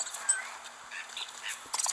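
Birds in the video game Don't Starve Pocket Edition give short quacking, honking calls, faint and repeated in quick bursts over a soft background bed.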